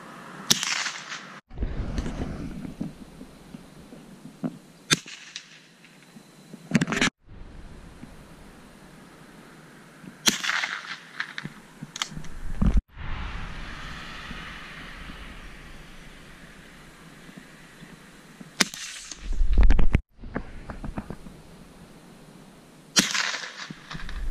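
Polish WZ-48 .22LR military training rifle fired from a standing position, several sharp isolated shots spaced seconds apart, with outdoor noise and handling sounds between them.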